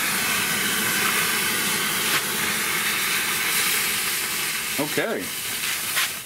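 A mixture of four grams of potassium chlorate and two grams of cornstarch burns with a loud, steady, rushing hiss that fills the whole stretch, briefly wavering near the end as a voice speaks a single word.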